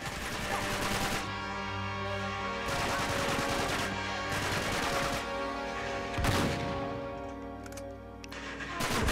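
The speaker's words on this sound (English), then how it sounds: "Sawed off shotgun." Shotgun blasts from a sawed-off shotgun in the action game Uncharted 3, several loud bursts over about nine seconds amid dense battle noise and a steady game soundtrack, with no talk.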